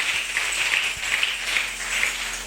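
A church congregation claps steadily, a broad wash of applause that holds at an even level throughout, with faint low background sounds.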